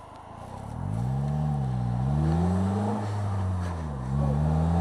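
A Polaris Slingshot with a manual stick shift drives steadily, its engine note holding a strong low hum that rises and dips slightly with throttle, close and continuous throughout with no talking.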